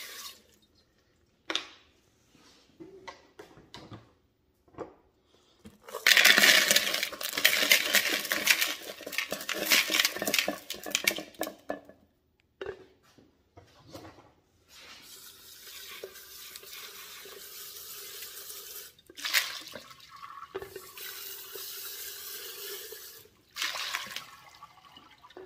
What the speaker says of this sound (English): now we're ready to give them a good wash